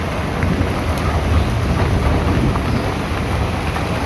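Heavy rain pours down outdoors as a dense, loud, continuous roar of broadband hiss, with no voices.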